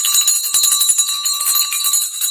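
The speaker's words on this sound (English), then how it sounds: "The bell happened." A market closing bell rings continuously for the US market close on January 10, 2025, a bright, sustained metallic clang with rapid repeated strikes. It is loud and close, with no talking over it.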